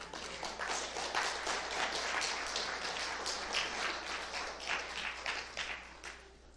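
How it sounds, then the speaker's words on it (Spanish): A church congregation applauds, brisk, fairly steady clapping from a crowd, heard at moderate distance with a low hum beneath, tapering off at the end. "Dale un aplauso al Señor"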